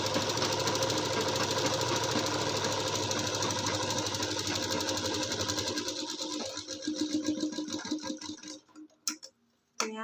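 A sewing machine stitching a girl's kurti runs steadily and loudly at close range with a rapid mechanical rattle, then slows into uneven bursts and stops, followed by a few faint clicks.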